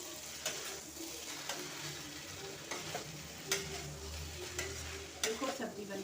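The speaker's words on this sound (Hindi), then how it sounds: "इसको मिक्स कर देंगे अच्छे से" Mixed vegetables with dried fenugreek leaves are stirred in a hot pan, a low steady sizzle with a spoon knocking and scraping against the metal at irregular intervals, no speech.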